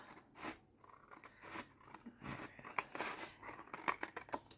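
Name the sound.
scissors cutting paper for a journal card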